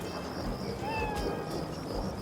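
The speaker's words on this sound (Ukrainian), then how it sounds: "раптом почув тихеньке нявчання" A small kitten mews softly in an animated fairy tale, a couple of thin, high meows heard over a steady hiss of heavy rain.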